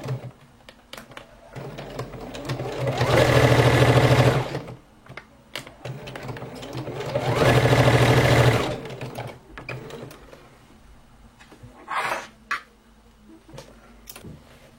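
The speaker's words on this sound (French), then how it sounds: "on continue la couture à 1 cm du bord" Sewing machine running two long bursts of steady stitching along a blouse seam with braid trim sandwiched in, sewn 1 cm from the edge, plus a brief short run near the end, with quiet handling clicks between runs.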